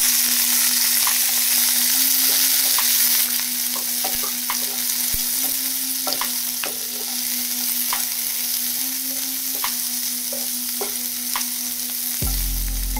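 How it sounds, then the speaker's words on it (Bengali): Onion and capsicum frying in a pan for chilli mushroom, a loud, continuous close-up sizzle with frequent light taps and clicks of stirring running throughout, and no one talking. "এবারে এর মধ্যে পেঁয়াজ আর ক্যাপসিকাম দিয়ে দেব।"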